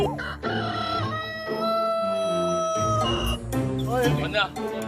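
Chickens in a coop on an aloe farm cluck and a rooster crows, with a narrator's voice over the birds.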